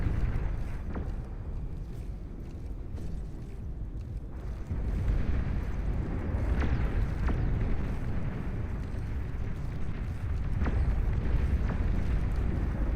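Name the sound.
Juno missiles exploding in a video game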